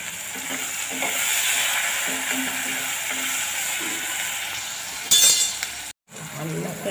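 Steady sizzling of tomatoes and onions sautéing in a pan, with soft stirring scrapes and a brief clink near the end before a short silence.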